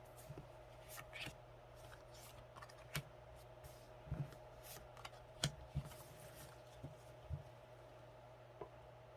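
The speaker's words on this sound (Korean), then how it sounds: "먼저 선택 카드를 뽑아 보겠습니다." Tarot cards being shuffled and drawn in a quiet room: faint scattered riffles, taps and card slides at irregular intervals over a low steady hum.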